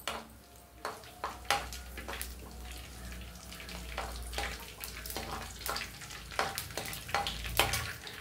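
A single dried red chilli fries in a little oil, giving a continuous close sizzle dotted with sharp, regular pops and spatters over a low steady hum.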